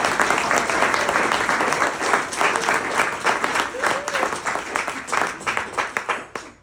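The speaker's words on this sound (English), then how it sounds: "I'd actually like a little round of applause for those three." Wedding guests break into a loud, dense round of applause for several seconds. The clapping thins and fades toward the end.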